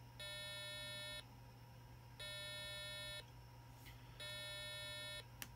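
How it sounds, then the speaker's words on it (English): An Arduino board plays a steady 200 hertz buzzer tone three times, each beep about a second long with a second of quiet between, with faint background hum throughout. "It's just going to play 200 hertz."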